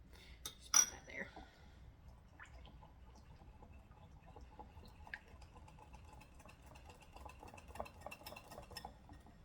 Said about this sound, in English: A whisk just works so much better than a spoon.